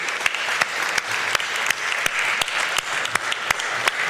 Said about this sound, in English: So a round of applause for all of our advocates and leaders.